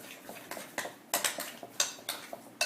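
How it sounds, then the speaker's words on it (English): A utensil stirs pumpkin pie filling with spices in a bowl, giving a steady run of light clinks and scrapes against the side, close and fairly quiet, with no talking. "just stir that until it's a really nice, even consistency."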